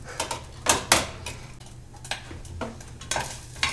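Food being stirred in a pot for dorm-style bean and beef burritos, a few soft scraping clinks of a utensil against the pot with faint sizzling, close and fairly quiet, with no talk.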